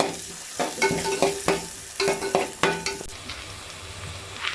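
Chopped onion sautéing in oil in a pan for a Chettinad fish curry, with a steady sizzle and a run of sharp, rhythmic scrapes and clinks from a spoon stirring against the metal.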